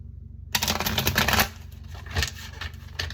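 Tarot cards being shuffled, a dense papery riffling and flicking that starts abruptly after a brief silence, loudest early on and then continuing in softer bursts, with no one talking.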